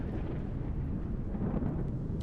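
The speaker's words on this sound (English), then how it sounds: "Nasty storm, man." A thunderstorm rumbles in Empyrion Galactic Survival, a dense, continuous low roar of thunder and rain, steady and fairly loud with no voices.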